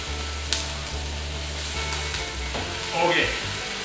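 Chopped celery hits onions already frying in a pan for chili, giving a steady, close sizzle with a short stirring scrape near the end.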